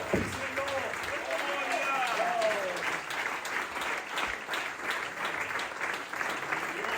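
A church congregation claps and cheers at a Spanish-language evangelical service, dense applause swelling then thinning, with a voice calling out over it and some whoops.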